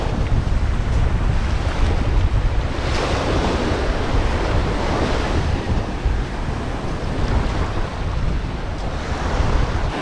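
Ocean waves wash steadily onto a seashore at high tide near Naked Island in Surigao del Sur, a continuous loud surf roar with wind buffeting the microphone and no voices.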